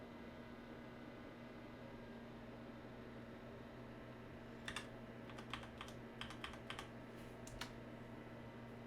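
A computer keyboard tapped briefly while entering a password, a short burst of quiet, close keystrokes over steady fan hum after several seconds of near silence.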